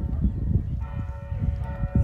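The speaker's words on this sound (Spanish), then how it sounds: "Las campanadas." Church bells ring in Las Ranas, Michoacán, a sustained metallic tone that hangs over low, rumbling background noise at a moderate distance.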